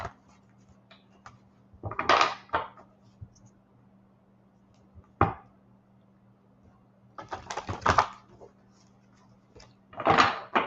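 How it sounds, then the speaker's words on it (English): A deck of tarot cards is shuffled by hand in a few short, crisp bursts of riffling and slapping, separated by pauses, over a faint steady hum. "If I can get the cards to shuffle"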